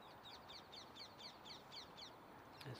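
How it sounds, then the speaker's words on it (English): Birds chirping in a rhythmic series of calls on a morning at a cricket ground in Barcelona, Spain, with roughly nine evenly spaced high, bright chirps over steady background noise, then a short thud near the end. "some of the parrots that have made this their home as well, waking up in the morning, chirping away"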